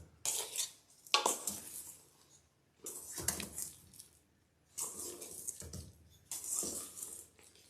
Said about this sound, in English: Now we're going to mix the egg whites in it.